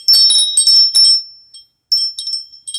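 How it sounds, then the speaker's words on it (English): A mermaid-shaped wind chime hung on a spring rings close by in bright, tinkling bursts, first in quick clusters, then in fainter, scattered jingles after a brief pause. "We have this mermaid awesome wind chime."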